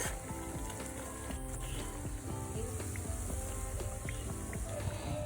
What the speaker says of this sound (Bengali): বাকি পাকোড়াগুলোও সেমভাবে ভেজে নিতে হবে